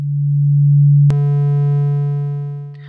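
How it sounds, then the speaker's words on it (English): A loud, pure steady sine-wave synth tone in a web audio editor that abruptly switches to a brighter, buzzier triangle wave at the same pitch, then fades slightly. "I'll change it from a sine wave to a triangle."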